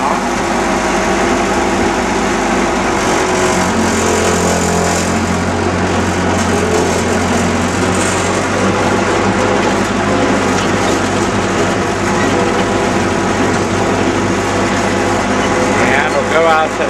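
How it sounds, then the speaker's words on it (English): A Ford 9N tractor engine runs steadily and loudly throughout, a continuous low mechanical drone that holds an even level as the tractor is put in gear, with no pauses. "I'll put it in gear now."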